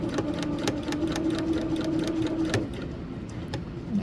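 Sewing machine stitching a fabric seam, a close steady rapid whir and needle chatter running continuously throughout.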